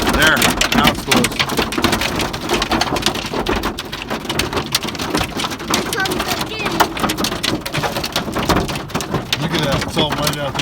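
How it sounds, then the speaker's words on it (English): A hailstorm pelts surfaces with dense, loud, continuous clattering and patter from start to finish, with a few voices faintly audible beneath the din. "That is a gnarly hailstorm."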